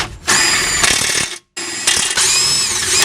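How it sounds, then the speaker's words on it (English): Bolt and two nuts at a car's lower ball joint being run in with a power ratchet during a CV axle boot replacement: two loud, close, whirring bursts separated by a brief silent pause. "I got to drive in the bolt and the two nuts at the lower ball joint."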